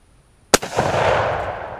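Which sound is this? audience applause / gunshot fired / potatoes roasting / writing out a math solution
gunshot fired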